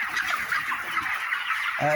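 A crowd of broiler chickens on a poultry farm fills the air with dense, overlapping clucks and calls that run unbroken and fairly close throughout.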